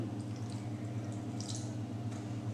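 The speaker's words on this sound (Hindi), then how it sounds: "इसके साथ ही इसमें मैं लगभग 2 चम्मच पानी डाल दूंगी।" About two spoonfuls of water added to jaggery melting in a pan on a gas stove, giving soft close drips and liquid trickles over a steady low hum, with no talking.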